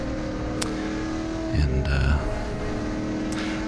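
A race car lapping Gingerman Raceway on the first lap, its engine droning steadily up close with a brief louder low surge midway as it works through the opening corners.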